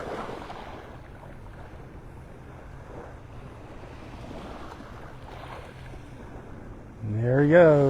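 A police boat motors along offshore near a Gulf beach, faint and distant under steady surf and wind noise, and a voice speaks briefly at the end.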